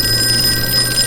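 A telephone rings in the Call of Cthulhu video game, a steady electronic trill that holds at an even level over a low background hum, with no voices.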